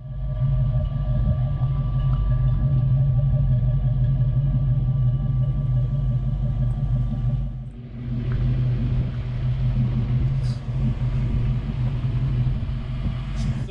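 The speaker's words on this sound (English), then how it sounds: "Exhaust sounds really good." A 1993 Reef Blue Ford Mustang Foxbody coupe with Flowmaster mufflers idles steadily, a deep, even exhaust burble held close and loud throughout, with a brief dip near the middle.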